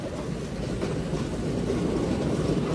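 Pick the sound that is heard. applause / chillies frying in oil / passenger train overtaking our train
passenger train overtaking our train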